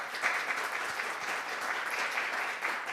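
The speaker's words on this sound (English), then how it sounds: "please give them a big round of applause" Steady, dense applause from an audience honouring a panel discussion at a conference, sustained evenly throughout with no pauses or voices breaking through.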